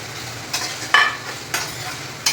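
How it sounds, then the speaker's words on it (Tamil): Paneer frying lightly in ghee in a pan, with a steady soft sizzle and a few louder stirring scrapes spaced across the moment, close and without talk. "இப்போது இதில் பன்னீரை ஊற்றி லைட்டாக ஃப்ரை பண்ணிக்கலாம்"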